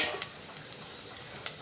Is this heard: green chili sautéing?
yes